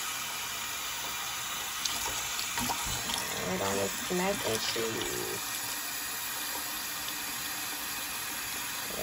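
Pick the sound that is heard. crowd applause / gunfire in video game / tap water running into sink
tap water running into sink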